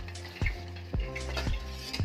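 Prawn malai curry cooking in a pan, with loud bursts of sizzling and frying roughly every half second, and clinks of a utensil against the pan over a low steady hiss.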